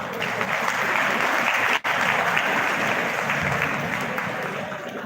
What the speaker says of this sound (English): Audience are requested to pay their keen attention to the participants and give them a thunderous applause.